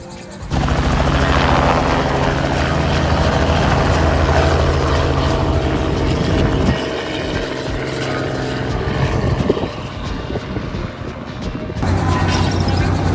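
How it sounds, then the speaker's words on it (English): A loud, steady rotor and engine drone of a tour helicopter at Myrtle Beach, South Carolina, runs throughout, with a brief dip and change in tone near the end. "We are about to embark on a journey in a helicopter"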